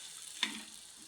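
Chopped onion and garlic sauté in a hot pan with salt, a soft sizzle with one brief stirring clatter near the start, close and quiet.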